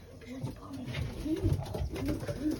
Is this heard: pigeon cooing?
yes